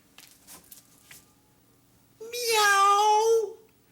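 After a few faint noises, a person gives one drawn-out, clear cat-like meow, imitating the animal with their voice.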